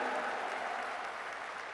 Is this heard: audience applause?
yes